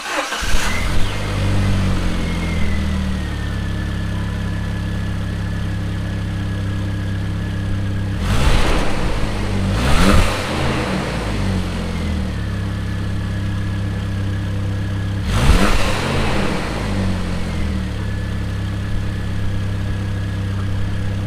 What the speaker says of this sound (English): You can get a sound clip of the before stock exhaust.